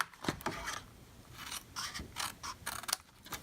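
Paper on a soap box being trimmed with scissors, a few short crisp snips and rustles spaced across the moment, close and fairly quiet.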